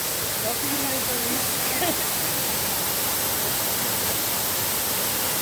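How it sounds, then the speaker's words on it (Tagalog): A waterfall rushes in a broad, constant roar, steady and loud throughout, with faint voices barely emerging under the noise. "So ito po, makikita niyo po sa aking likuran, ang waterfall."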